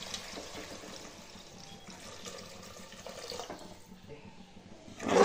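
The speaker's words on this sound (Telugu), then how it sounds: "కర్రీకి సరిపడా వాటర్ వేసుకుందామండి." Water poured into a simmering vegetable curry in a pan, a steady close splashing and trickling stream that runs for several seconds and swells at the end.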